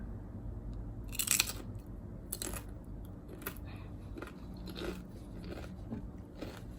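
Crunchy carne asada chips with tacos are bitten and chewed up close, giving a few sharp loud crunches followed by quieter scattered chewing crackles at an uneven pace, with no talking.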